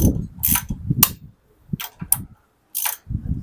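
Ratcheting 3/4 wrench tightening nuts on the front end of a 1973 Harley-Davidson Sportster, heard as quick repeated mechanical clicking bursts with sharp metallic taps in between, close and clear.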